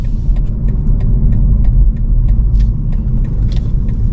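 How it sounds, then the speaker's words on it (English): A learner driver's car creeps forward in first gear at a closed junction, a steady low engine and road rumble running throughout with faint ticking on top. "Push into first gear. I'm rolling the car."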